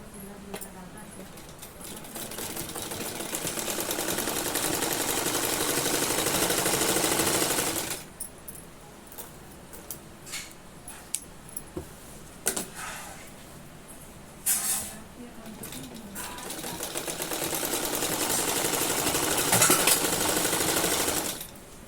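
A sewing machine stitches the hem of a Patiyala salwar, running in a loud, steady whir, then pausing for a few scattered clicks and handling sounds before a second sustained run of stitching.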